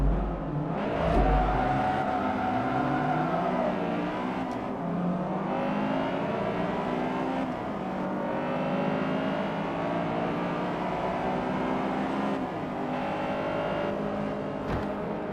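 A front-wheel-drive car's engine revs hard during a race in Forza Motorsport 3, rising and falling through the gears in a loud, continuous drone as other cars are heard nearby.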